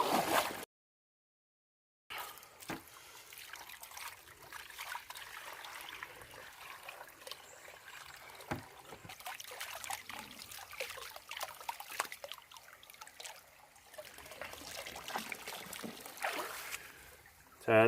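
Water swirls and sloshes in a gold pan while highbanked gravel is panned out, a steady close wet rushing with scattered clinks, briefly cut by a short silent gap near the start.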